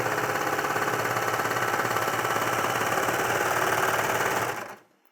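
Serger sewing machine stitching, a fast steady mechanical whirring chatter held close and loud for several seconds before stopping abruptly.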